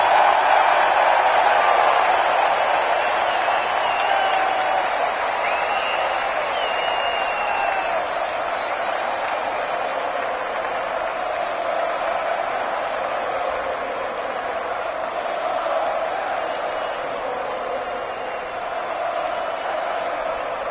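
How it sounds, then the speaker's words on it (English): A large stadium crowd cheers and applauds steadily for South African captain Temba Bavuma at the 2025 World Test Championship final ceremony, a dense, sustained roar of clapping and voices that slowly eases off. "the biggest cheer of the day when your name was called up there"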